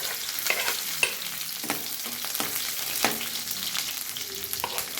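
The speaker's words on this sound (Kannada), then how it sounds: "ಸ್ವಲ್ಪ ಸಾಸಿವೆ ಸೆಡಿದ್ಮೇಲೆ ಸ್ವಲ್ಪ ಜೀರಿಗೆ ಅದಕ್ಕೆ ನೋಡಿ ಇವಾಗ ಬೆಳ್ಳುಳ್ಳಿ ಹಾಕ್ತಾಯಿದ್ದೀನಿ" Garlic, mustard seeds and cumin sizzle steadily in a hot pan, a continuous crackling fry broken by sharp clicks and scrapes of stirring, close and moderately loud, with no voices.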